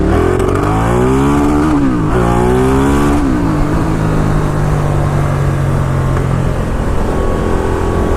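Engine of a Ducati Diavel cruiser motorcycle pulling hard under acceleration, loud and close, with rising revs that break briefly between gear changes before settling into a steady drone.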